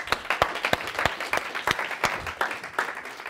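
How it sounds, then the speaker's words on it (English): Audience applause in a room, a close burst of scattered hand claps with an uneven rhythm over a few seconds. "All right, you can sit down. Thank you. Hand applause."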